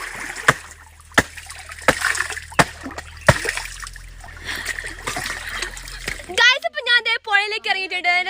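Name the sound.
splashing in river water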